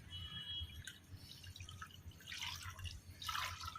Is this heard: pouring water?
yes